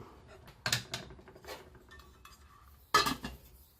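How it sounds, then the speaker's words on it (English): A metal lid goes back onto a pot of chicken paprikash on the stove. A few close clinks and clanks sound in the first second and a half, a pause follows, then one louder clank as the lid settles. "So we're going to put the lid back on that."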